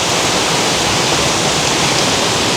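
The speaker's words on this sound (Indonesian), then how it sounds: "ini udah mulai kelihatan ya curugnya" Steady, loud rush of a waterfall at an eco park among tea plantations, a continuous dense roar of falling water with no other sounds.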